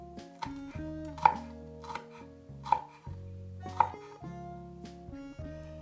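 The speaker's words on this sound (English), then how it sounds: "cut 2 hot chilies" A knife cuts two hot chilies for a dipping sauce, leaving a few sharp, close taps on a board spaced about a second apart over quiet background music, with no speech.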